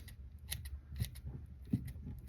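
Scissors snip fly tying material while a downsized musky fly is tied, giving a series of quiet, close, crisp cuts spaced irregularly.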